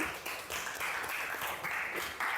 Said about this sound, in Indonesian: Tepuk tangan buat keyakinan kelas kita.